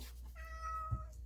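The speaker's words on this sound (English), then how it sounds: "That is our kitty cat, our rescue kitty cat." A rescue cat meows in a drawn-out, tonal call, close and fairly loud, with a soft thump near the end and no talking over it.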